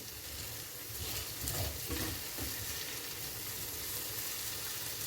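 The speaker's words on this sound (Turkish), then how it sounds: "Öte yandan da burada sebzelerimi soteliyorum." Vegetables sauté in a pan for a lentil and spinach soup, giving a steady, close sizzle with brief stirring scrapes and no talk.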